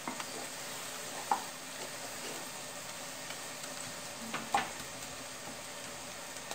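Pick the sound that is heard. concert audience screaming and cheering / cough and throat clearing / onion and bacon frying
onion and bacon frying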